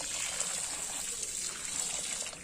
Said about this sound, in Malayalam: നമ്മൾ വെള്ളം ഒഴിച്ച്